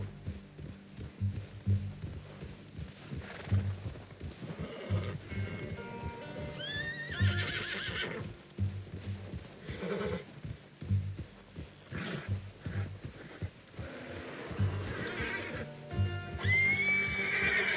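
Horses in the Red Dead Redemption 2 video game whinny and snort repeatedly, with rhythmic hoof clip-clop underneath and louder, close neighs toward the end.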